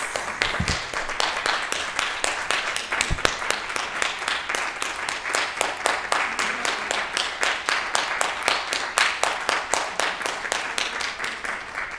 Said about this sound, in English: Let's give a round of applause for Dr. Downing and Dr. Mary Grace